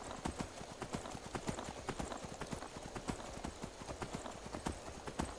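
Shadowmere, a horse in Skyrim, gallops with quick, rhythmic clip-clop hoofbeats, steady and close, over a soft outdoor ambience, alone without talk.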